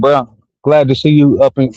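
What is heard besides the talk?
None of the usual background noises is heard.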